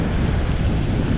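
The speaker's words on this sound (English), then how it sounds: "Holy moly, it's windy. It really picked up just now." Strong wind gusting across an exposed ridge in Denali National Park, a dense, steady low roar buffeting the microphone throughout with no pause.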